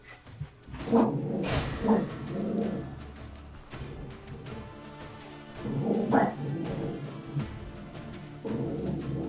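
A dog wearing a thunder shirt, a snug weighted vest meant to calm it, lets out a few sharp barks and whimpering yips in separate bursts, spaced apart over steady background noise.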